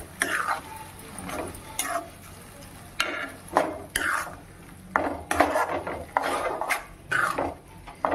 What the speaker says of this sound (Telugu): ఇప్పుడు కరివేపాకును ఇందులోకి వేసేయాలి, బాగా కలుపుకోవాలి.